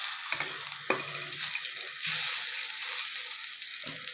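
Bay leaf and cloves sizzle in hot oil in a pan for home-made fried rice, a steady bright hiss that flares louder midway, with a few soft clinks and stirring knocks.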